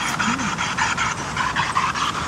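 A small dog pants in rapid, rhythmic breaths close by, a steady series of huffing pulses running through the whole stretch over faint background noise.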